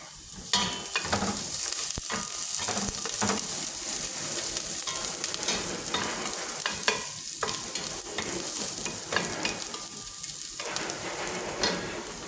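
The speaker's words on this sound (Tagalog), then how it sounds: "pwede natin ilagay yung yung garlic para sasabay siya sa pag-brown ng sibuyas" Garlic and onion sautéing in a pan, with a steady, close, dense sizzle and frying crackle running the whole time, broken by occasional scrapes and clinks of stirring, and no talking.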